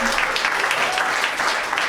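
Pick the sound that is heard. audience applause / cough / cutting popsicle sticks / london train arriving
audience applause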